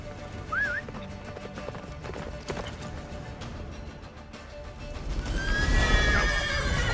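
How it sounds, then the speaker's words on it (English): Roach, a horse in The Witcher 3 video game, neighs loudly with a rising whinny near the end while galloping hoofbeats clip-clop steadily underneath, set against a wintry blizzard and game ambience. "Faster, Roach. Don't stop"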